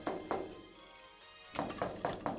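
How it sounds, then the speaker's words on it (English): Violent banging on a door in the video game Chaos;Head: heavy muffled thuds, two near the start, then a pause with low hum, then a rapid run of four more blows. "She was still violently banging on the door from outside."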